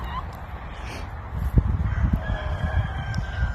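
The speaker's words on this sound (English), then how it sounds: "Someone once asked me why I have chickens." A flock of backyard chickens crows and clucks in short, scattered calls over a dense, rumbling outdoor background.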